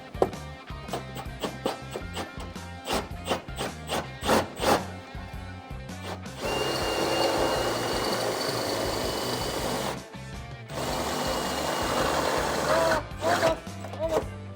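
Power drill boring a hole in the sill panel of an FC Holden under restoration. Several seconds of knocking and clattering give way to two sustained stretches of harsh whirring drilling, with brief voices nearby.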